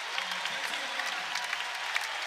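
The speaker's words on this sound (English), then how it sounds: "Bacco checks out to a warm round of applause" Steady, dense applause from a basketball crowd as a player checks out of the game, an even wash of clapping throughout with faint voices in the arena.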